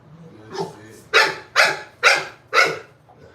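A dog barks up close, giving five loud sharp barks at a steady rhythm, the first one softer than the rest, against a quiet background.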